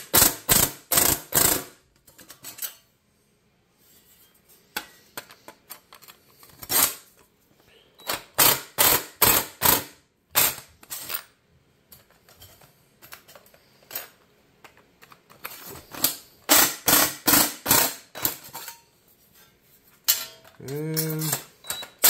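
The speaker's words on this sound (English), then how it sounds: "Then I'll take this old saw here and we'll cut the corners." An old hand saw cuts the corners of garage-scrap radiator mount material for an LS-swapped Suburban, giving close, rapid rasping strokes in several bursts with pauses between them.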